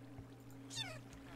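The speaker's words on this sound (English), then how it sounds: "there's a cat dying in here, beardstone" A cat in Minecraft lets out a single faint, drawn-out meow over a low steady hum, with no talking.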